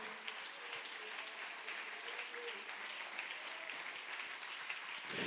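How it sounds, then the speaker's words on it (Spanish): A church congregation applauds during a Spanish-language service, a steady wash of many hands clapping that fills the room at moderate distance, holding evenly for several seconds with a brief rise at the end. "Dele ese aplauso al Señor esta mañana"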